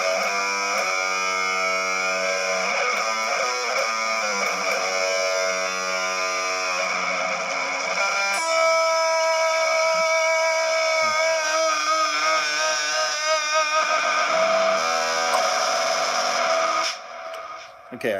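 An electric guitar runs through scales with heavy distortion, sustained buzzing notes stepping in pitch one after another, loud and continuous with no talking over it.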